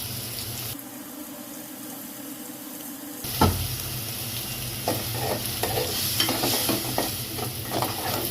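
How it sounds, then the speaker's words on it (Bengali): Spices stir-fry in a pan for a Bengali beef curry, a dense sizzle that jumps louder after a clatter, with scraping stirs over the continuous frying hiss. "এখন আমি মশলাটাকে ভালো করে কষিয়ে নিব"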